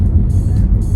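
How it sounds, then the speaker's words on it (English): Steady low engine and road rumble heard from inside a moving car, continuous and fairly loud, with faint hiss above and no talk. "So as you can see, I'm in the car driving."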